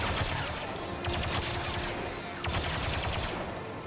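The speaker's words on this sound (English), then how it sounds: "I think just because I love this blaster rifle" Rapid blaster rifle fire from the heavy class in Star Wars Battlefront 2, loud and continuous bursts of sharp shots layered with battle noise and mechanical clatter throughout.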